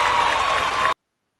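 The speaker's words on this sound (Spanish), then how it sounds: "Pues este aplauso enfervorecido de tu público para ti." A studio audience on a Spanish interview show claps loudly and enthusiastically in a dense, continuous burst that stops abruptly after about a second.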